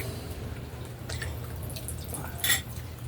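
Water drips in an outdoor cooking setting where many eggs are being cooked, a few faint, sparse drops with a brighter splash near the end over a steady low background hum.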